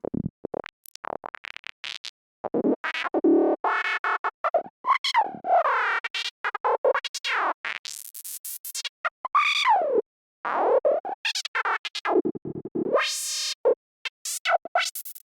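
Bright, heavily modulated FM synth lead notes from Serum with the FM amount raised, a psytrance-style patch with dotted-eighth delay, playing a busy run of short, gliding, metallic tones with brief gaps and no talking.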